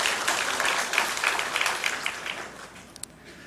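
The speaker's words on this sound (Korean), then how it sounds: "우리 하나님께 영광의 박수 한번 돌리겠습니다." A church congregation applauding during a service, a steady wash of many hands clapping that gradually tapers off over a few seconds, moderately loud.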